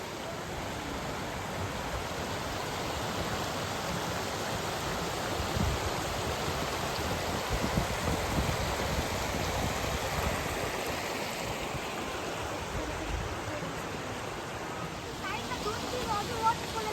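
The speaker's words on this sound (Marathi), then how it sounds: "खळखळच्या पाण्याचा आवाज कानावरती पडला" Rushing water of Tiffany Falls in Hamilton, Canada: a steady, dense roar of falling and streaming water that holds at a constant level throughout, close and enveloping with no clear breaks.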